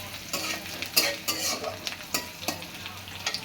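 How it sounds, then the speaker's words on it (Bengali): Chilies and onions frying in a pan while being stirred, a first step for a rohu fish head and potato curry: a steady soft sizzle broken by repeated scraping stir strokes at an irregular rhythm, close by. "প্রথমে মরিচ পেঁয়াজ দিয়ে একটু নাড়াচাড়া করে নিতে হবে।"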